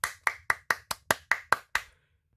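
Eight crisp hand claps ring out one after another in a steady, even rhythm, close and clear against silence, before stopping.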